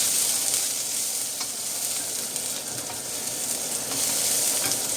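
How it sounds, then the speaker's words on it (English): Garlic and ginger sizzle hard in a hot pan while being stirred, a dense continuous frying hiss with faint scrapes, close up and without speech. "So, a quick stir there."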